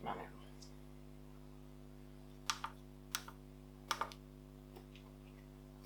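Keys clack on the keyboard of an industrial 386 PC: a few separate sharp taps, some in quick pairs, over a steady low electrical hum, with no voices.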